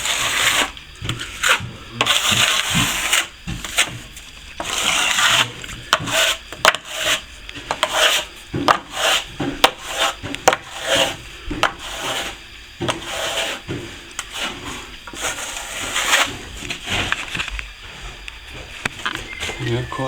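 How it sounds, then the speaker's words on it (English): Hand sanding and polishing of fresh plaster on a chimney breast during lath and plaster repairs, a steady scratchy rubbing rasp in repeated strokes, close and fairly loud, with people talking now and then. "Just doing the final polish on the chimney."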